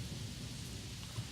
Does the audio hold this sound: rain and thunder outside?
yes